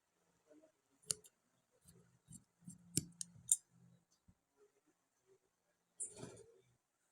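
Sharp scissors snip through blouse fabric in a few short, quiet clipping bursts with gaps of silence between them, close to the listener.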